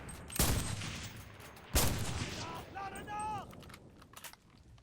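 Mosin-Nagant rifle fire in the Enlisted video game, with two sharp, loud shots about a second and a half apart followed by metallic bolt and reload clicks.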